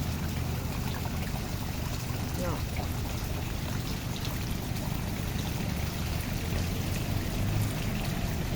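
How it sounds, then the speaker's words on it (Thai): Continuous rain falling, a broad steady hiss with trickling water, even and unbroken throughout. "ตอนนี้ฝนตกแล้วนะจ๊ะ เย็นช่ำเลยจ้า"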